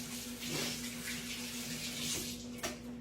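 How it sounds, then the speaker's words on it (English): Hands being rinsed under a running kitchen tap, a steady close wash of water with small splashy bursts near the middle and end, no talking. "let me wash my hands off"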